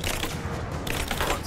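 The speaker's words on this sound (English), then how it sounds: "Bullets." Rapid gunfire in the action game Rise of the Tomb Raider, a dense, steady barrage of overlapping shots and cracks that runs loud and unbroken from start to finish.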